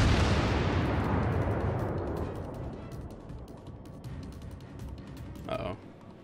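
The main guns of the battleship Nagato fire in World of Warships, one big booming blast that rolls off into a long fading rumble, followed by a small thump near the end.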